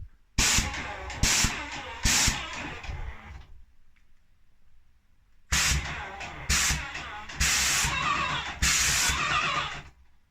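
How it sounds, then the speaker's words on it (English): Airless paint sprayer spraying water in several loud hissing bursts, three short blasts, a pause of near silence, then four more sustained sprays close by. "Let me even spray it on, just because this is water."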